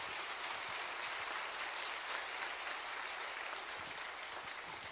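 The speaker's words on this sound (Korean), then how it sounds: "우리 찬양하신 분들 위해서 한번 뜨거운 박수 해주셨으면 좋겠고요." A church congregation at a Sunday service claps warmly for the choir, a steady, even round of applause that sounds somewhat distant and soft.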